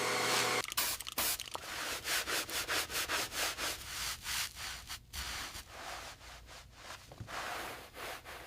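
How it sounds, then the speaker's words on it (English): A 1966 Dodge Dart's chrome windshield surround is hand-polished with chrome polish, giving steady, rhythmic back-and-forth rubbing strokes, close and fairly quiet, with no talking. "We're using a dedicated chrome polish here on the windshield surround."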